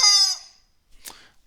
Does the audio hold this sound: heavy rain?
no